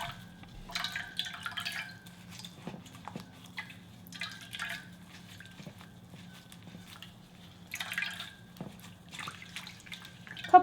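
Brine drips and trickles from salted, shredded cabbage squeezed by hand for pickles, small wet splatters coming in irregular bursts over a low steady hum.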